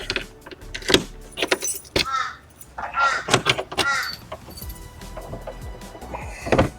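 Keys jingle and clink in several short bursts while someone searches a Ford Transit campervan, with sharp metallic rattles and a door-like clunk standing out over a quiet interior background.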